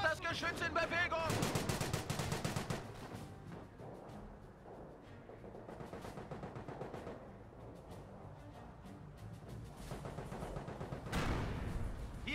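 Battlefield combat in Company of Heroes, Eastern Front mod, with bursts of loud gunfire and heavy artillery shell blasts rolling in and out over several seconds, mid-distance, with soldiers' voices calling out in German.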